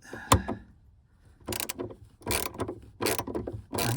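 Bursts of ratcheting from a ratchet wrench with a 10 mm socket loosening the battery bolts on a 2009-2017 Chevy Traverse, three or four close, clicking runs separated by short pauses, with no talk.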